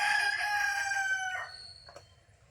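A rooster crows once, a loud nearby call that rises and then fades over about two seconds, followed by quieter faint clucking.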